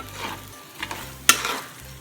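Curry leaves drop into a hot pan of aviyal and get stirred, giving a soft sizzle with a few scraping strokes and one sharp clink, close and without talk.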